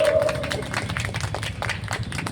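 An audience at an outdoor birthday celebration claps for the children, giving a dense, steady patter of applause with a brief tonal sound near the start.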